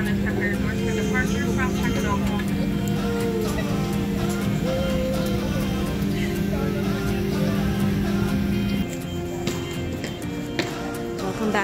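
Steady engine roar and hum fill the inside of a passenger airplane cabin during a flight from Mexico to New York, loud and constant throughout, easing slightly near the end.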